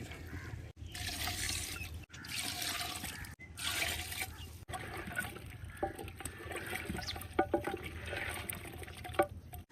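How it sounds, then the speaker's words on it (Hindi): Water is poured into a cooking pot holding tomato, garlic, ginger and onion paste for a chicken dish. It makes a steady, fairly loud rushing pour with a few brief breaks and some splashy trickles toward the end. "अब इसमें डालेंगे पानी।"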